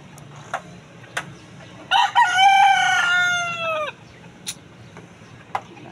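A nearby rooster lets out one long, loud crow among chickens, with scattered short clucks and knocks before and after.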